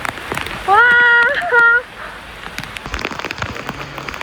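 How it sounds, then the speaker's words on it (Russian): Heavy tropical rain in Bali hisses steadily throughout, with a voice speaking briefly over the downpour. "Вот это тропический ливень."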